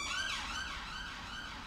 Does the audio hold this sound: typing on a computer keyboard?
no